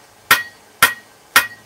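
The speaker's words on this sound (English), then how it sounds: "center out with the top edge of my hammer like a fuller" A blacksmith's hammer strikes hot steel while forging a grill tool, three sharp, loud, ringing blows about half a second apart, each standing alone against a quiet background.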